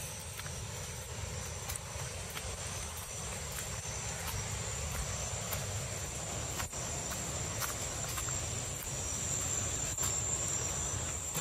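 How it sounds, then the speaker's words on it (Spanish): Dense insect chirping fills a humid rural path in Veracruz, Mexico, a continuous high shrill chorus at steady moderate loudness with faint rustling footsteps. "Aquí es una zona muy húmeda, hay muchísimos insectos."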